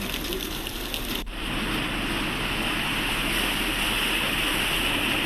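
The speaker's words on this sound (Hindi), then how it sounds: "उज्जैन में आज सुबह तेज बारिश हुई।" Heavy morning rain pours down steadily in Ujjain, a dense, loud hiss of falling water that continues unbroken after a short click near the start.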